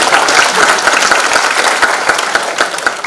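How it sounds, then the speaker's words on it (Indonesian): Applause from the audience at a college graduation ceremony in Medan, a steady burst of many hands clapping, fairly loud and close, with no talk over it. "Tepuk tangan untuk orang tua."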